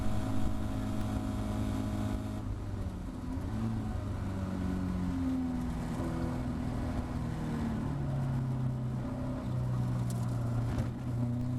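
A Caterham Academy race car at Thruxton works through the chicane, its engine droning and shifting pitch as it slows and accelerates again, heard steadily from on board with no talk.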